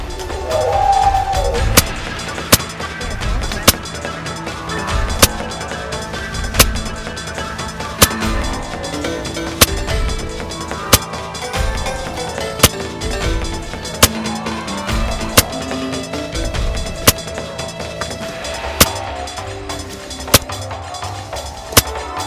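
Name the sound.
FX Impact air rifle firing 23 grain slugs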